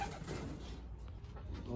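A racing pigeon arrives home after a long race in headwinds, with soft cooing under a steady hum of wind and outdoor noise at fairly low level.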